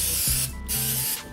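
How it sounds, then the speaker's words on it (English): Cooking spray hisses from a Pam aerosol can onto a cakelet baking pan in a home kitchen, two close, steady bursts of spray separated by a short pause. "Take your pan, spray with Pam."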